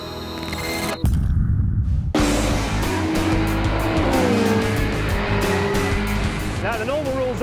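A 3-litre V8 Ariel Atom with gold wheels and gold chassis roars loud and close, its engine note droning steadily under a hard, raspy edge before revs climb sharply near the end.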